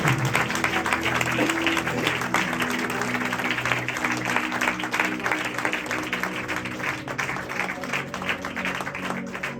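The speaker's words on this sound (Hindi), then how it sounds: "एक बार खुदावंद यीशु के लिए जोरदार तालियों के साथ उसका स्वागत" Loud, dense applause fills a church worship gathering welcoming Jesus, a continuous wash of clapping hands that stays strong throughout with musical tones sustained underneath.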